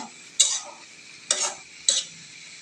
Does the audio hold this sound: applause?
no